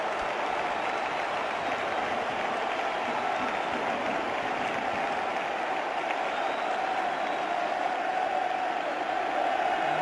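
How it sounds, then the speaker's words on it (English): A football stadium crowd cheering after a Messi goal for Barcelona against Arsenal, a dense, continuous roar of many voices that holds steady and loud throughout. "finally he's given the crowd something to cheer about"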